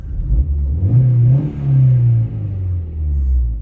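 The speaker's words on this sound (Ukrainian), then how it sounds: "Бачите, як набирає оберти." An Opel Astra H petrol engine revving up and down, close and loud, with rising and falling rumbling pulls repeated several times and no talk over it.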